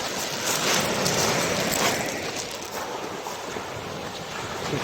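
Sea waves wash against a winter shoreline in a steady, broad roar, with gusting wind buffeting the microphone throughout; no voices over the surf.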